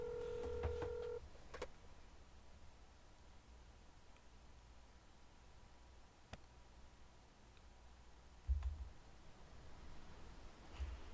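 A phone in the Mon Bazou driving game is dialed with a quick burst of keypad tones, followed by quiet line hiss and a few low ringing pulses, faint and sparse overall.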